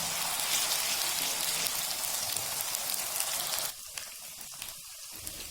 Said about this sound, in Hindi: अब इसमें हमने लहसुन अदरक का पेस्ट डाल देना है और इसको 2 से 3 मिनट